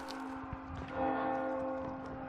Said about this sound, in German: Wer läutet da die Glocke?